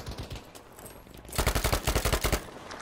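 An M1928A1 submachine gun fires a fast, steady burst in Battlefield V's Conquest mode on Hamada, with evenly spaced loud shots following a few scattered earlier ones.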